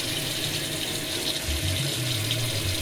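Tap water runs steadily into a sink while a large beef tongue is rinsed under it, a constant close hiss with small clattering shifts.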